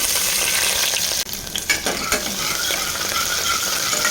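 Loud continuous sizzling of whole garlic cloves frying in hot oil in a pressure cooker, broken briefly by a stirring clatter, then the sizzle carries on steadily.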